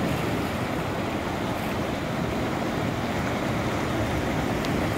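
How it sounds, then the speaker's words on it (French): Big ocean swells break and surge at Funchal, Madeira, a loud continuous rumbling wash of surf mixed with wind noise on the microphone. "C'est des grosses vagues quand même."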